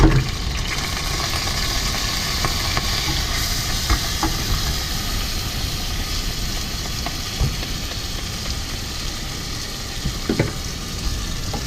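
Steady, soft sizzling and crackling of rice frying in oil over low heat, continuous with no talking.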